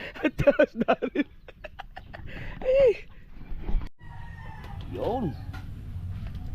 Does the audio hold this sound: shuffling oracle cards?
no